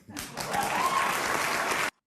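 Audience applause and cheering fills the space as a dense, steady wash of clapping that swells quickly, holds at full strength and then cuts off abruptly.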